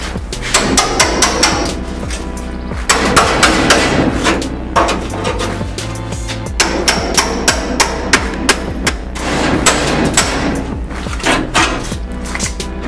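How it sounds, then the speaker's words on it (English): A hammer repeatedly drives a steel wedge to split spot welds on the fender apron of a 1967 Ford Mustang, loud metallic strikes in irregular bursts across the whole stretch, with no talk. "So I'm going to start wedging this and see if I find any new spot welds I need to cut out."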